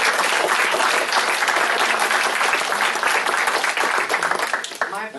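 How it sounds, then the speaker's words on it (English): The audience at a Mount Dora, Florida city council meeting applauds Edna: close, steady clapping from many hands that carries on and eases slightly toward the end. "I think we all could give her a round of applause too"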